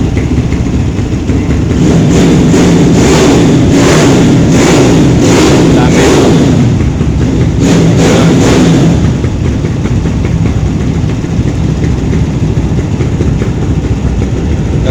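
A racing motorcycle engine revs hard in repeated surges, then settles into a loud, steady drone with crowd noise in the background.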